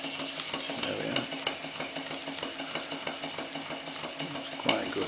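A Clarkson inverted steam engine running slowly on steam from a PMR boiler, with a steady, slightly uneven mechanical chuffing and ticking that continues throughout at close range, and one brief louder knock near the end.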